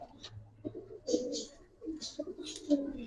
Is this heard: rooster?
no